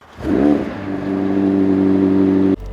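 A McLaren 765LT supercar engine revs sharply upward, then settles into a loud, sustained drone before cutting off abruptly near the end.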